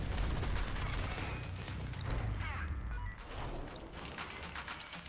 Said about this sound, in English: Give me the cannon. Hellfire cannon.